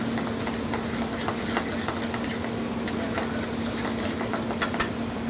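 Prosciutto and garlic fry in a pan, a steady close sizzle with soft crackles and occasional stirring scrapes, with no voices.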